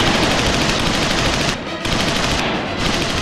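A machine gun fire sound effect, one dense continuous roar of rapid shots with two brief dips, loud and close throughout.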